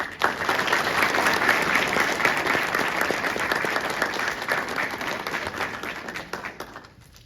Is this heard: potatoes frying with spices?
no